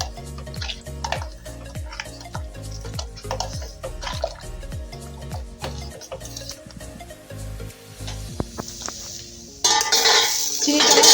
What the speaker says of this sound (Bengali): এবার আমি মিল্ক পাউডারটা দিয়ে দেব। এবার এটাকে একটু নাড়িয়ে নেব।